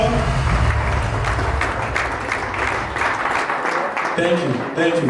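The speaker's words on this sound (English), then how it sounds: "Put your hands together for them." An audience at a 50th birthday celebration claps for the pastors, a dense, steady wash of applause with cheering, while a voice speaks over it near the end.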